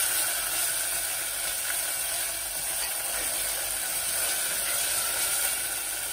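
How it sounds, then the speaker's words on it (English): Rempah, a spice paste, frying in hot oil in a medium-hot pan for chicken: a loud, dense, continuous sizzle and crackle with no pauses, and no talking. "I want to fry this so it's really fragrant."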